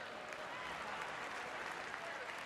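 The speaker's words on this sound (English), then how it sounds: "let's give one more round of applause" Steady audience applause at a Nebraska state high school basketball championship event, a dense, even wash of clapping filling the whole stretch at moderate loudness with no voices on top.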